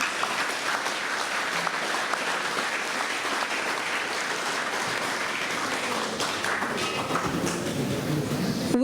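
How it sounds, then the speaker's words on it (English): A ceremony crowd applauds graduates at a Pacific polytechnic graduation, dense sustained clapping from a large audience that stays even and loud throughout. "can we have a round of applause for all the graduates?"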